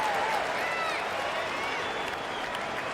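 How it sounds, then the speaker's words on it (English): Simulated arena crowd in the NBA 2K24 basketball game during a Lakers–Clippers timeout, a loud, continuous wash of applause and cheering for the Laker Youth Dance Team, with whistles rising through it. "give a big round of applause for your Laker Youth Dance Team"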